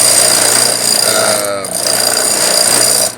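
A homemade 2x72-inch belt grinder grinds down a piece a little at a time, a loud continuous abrasive roar with a brief dip in the middle, running close and steady until it cuts off at the end.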